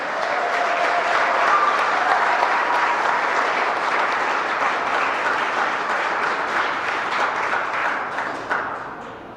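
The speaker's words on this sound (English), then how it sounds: "And a round of applause for first place." Steady, loud audience applause for the first place winners at a county youth business plan competition awards night, sustained throughout and tapering slightly at the end.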